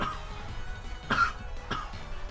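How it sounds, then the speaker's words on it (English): A man coughs a few times between moments of a competitive Pokémon Sword and Shield ranked battle, short rough bursts heard close up over quiet background noise. "I don't know why I'm coughing so much right now."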